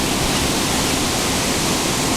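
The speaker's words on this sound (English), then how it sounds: "Notice the spray from that wheel. Wow, I'm getting a shower up here." Steady rushing splash of water spray thrown off a large steamboat's stern paddlewheel, the American Queen, heard close and continuous like a waterfall, with no voices.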